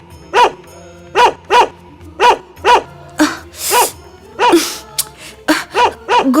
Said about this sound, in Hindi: ये कुत्ते के भौंकने की आवाज से मुझे ध्यान लगाने में विक्षेप हो रहा है